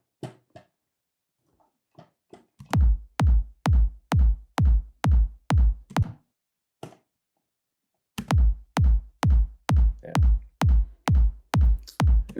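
A punchy electronic psytech kick drum without EQ, hitting in steady four-on-the-floor runs of deep thumps with short gaps, loud and dry with no voices.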